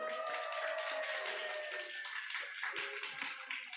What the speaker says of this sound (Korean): 자, 박수 한번 보내줄까요?